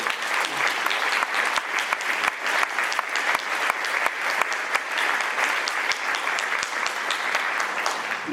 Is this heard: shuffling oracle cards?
no